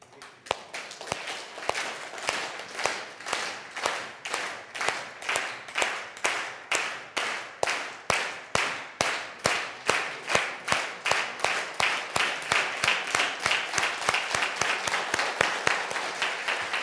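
A company event audience claps in unison, a long run of sharp, evenly spaced claps that holds a steady rhythm, growing slightly louder and a little faster toward the end.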